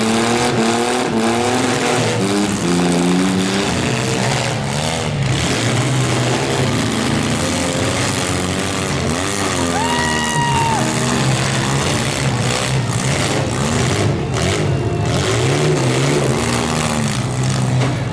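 Demolition derby cars at Georgetown rev their engines in a continuous loud roar, with impacts and crowd noise mixed into a dense, steady din.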